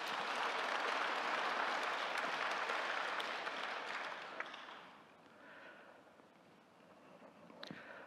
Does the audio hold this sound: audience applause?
yes